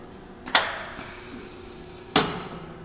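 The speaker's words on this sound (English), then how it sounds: "I'm going to hold that until the clamp comes down and the coil is clamped into place." Machine clamp dropping onto a metal coil during a press setup, with two sharp metallic impacts about a second and a half apart and a faint tap between them, close and otherwise quiet.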